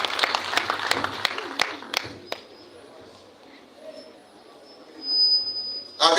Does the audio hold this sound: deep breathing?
no